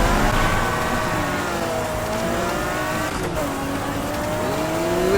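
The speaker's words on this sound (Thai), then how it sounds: "เปิดเครื่องนิดนึง เสียงโคตรลั่นนะครับ รู้สึก คันนี้จะเป็นเครื่อง V12 หรือเปล่า" Loud, high-pitched McLaren F1 V12 engine in Need for Speed Heat revving and whining continuously, pitch rising and falling as gears shift, with a brief dip midway.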